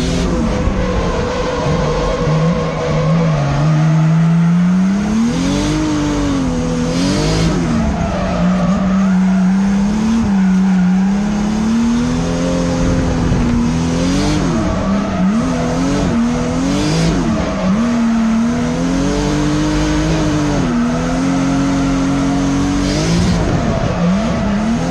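A race car engine roars continuously on a track at Club Loose in San Antonio, Texas, its pitch rising and falling through gear changes and corners, with tires squealing at times; loud and close throughout.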